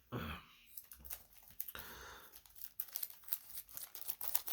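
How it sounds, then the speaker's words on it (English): A plastic comic-book poly bag crinkles and tears close up as it is opened with scissors, in irregular bursts with a few sharp snips and handling noises. "I get so nervous when I open poly bags with comics and stuff."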